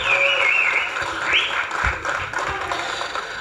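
Audience applause at a film teaser launch as the music director is welcomed to the stage, clapping in a large hall under loud background music with a whistle-like tone rising over it.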